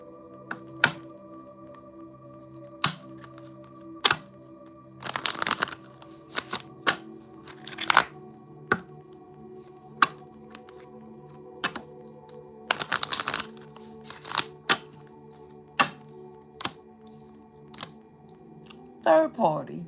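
A deck of playing cards is shuffled in short riffling bursts and scattered taps, irregular and close, over a quiet background hum.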